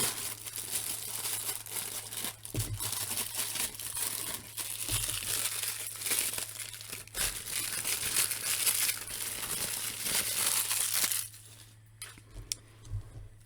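Plastic packaging crinkles and rustles up close as a Hasbro Fortnite Victory Royale Series Metal Mouth figure is unboxed, with occasional light clinks and a low hum, then the noise drops off to a few soft taps near the end.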